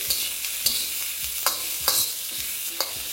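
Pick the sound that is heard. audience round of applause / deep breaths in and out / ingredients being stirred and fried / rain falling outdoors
ingredients being stirred and fried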